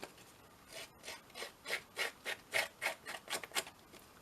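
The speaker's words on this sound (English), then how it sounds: "So I'm just going to rough up the edges." Edges of journal paper roughed up with about a dozen rhythmic rasping strokes, close and steady, with no other sounds.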